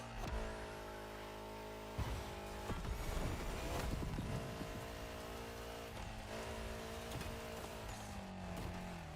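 A steady car engine in the video game The Crew Motorfest drones continuously with harmonic revving that rises and dips, loud and close, with a few sharp bumps along the way.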